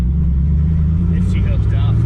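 V8-swapped Volvo on a Holley Terminator X pulling hard in third gear with a welded differential, a deep, loud engine rumble heard close from inside the car while a voice talks over it.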